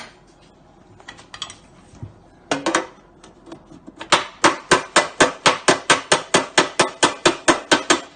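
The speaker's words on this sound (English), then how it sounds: "you can see where the ball peen is pushing that up" A ball peen hammer taps out a car body dent in a heated low spot, starting with scattered light taps, then settling into a fast, even run of sharp metallic strikes, close and loud, with no talking.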